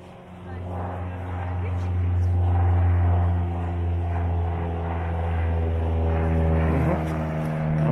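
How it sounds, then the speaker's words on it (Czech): A light propeller airplane on a sightseeing flight over Seč passes overhead as a steady, droning engine hum that swells and fades, with people talking nearby. "Nevím, jestli to bude vidět, ale letadlo semhle přilítá."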